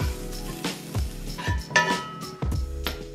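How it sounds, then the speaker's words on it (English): Cooked turkey being scooped from a pan into another container, giving repeated clinks and scrapes of a utensil against cookware, close by, in an uneven rhythm. "I'm just gonna scoop that up into a different container"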